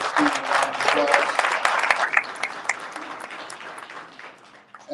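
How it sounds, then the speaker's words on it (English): An audience at a Delaware State football coach introduction applauds an honoured alumnus, a lively burst of clapping with scattered cheers that slowly fades, with some voices mixed in. "If everybody gives Steve a round of applause."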